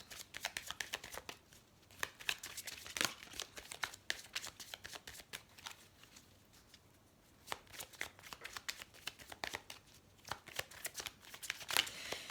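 Tarot cards being shuffled by hand, close and soft, with quick irregular riffling bursts and brief pauses throughout.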